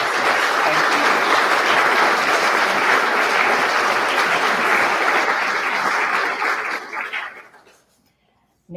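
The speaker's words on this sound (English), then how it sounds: "So if you could help me in an applause for our sponsors." Audience at an art show opening ceremony applauds sponsors with loud, dense clapping that holds steady for about seven seconds, then fades out quickly to near silence.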